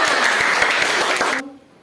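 A classroom of students clapping together in a brief, dense burst that cuts off abruptly after about a second and a half, leaving quiet room tone.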